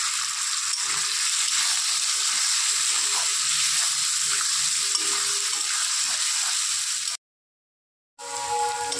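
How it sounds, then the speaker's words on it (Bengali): Potatoes frying in oil for a shrimp dish give a steady, close, broadband sizzle that runs evenly for about seven seconds, then cuts out abruptly before resuming briefly. "তারপর একইভাবে আলুগুলো ভেজে নিতে হবে।"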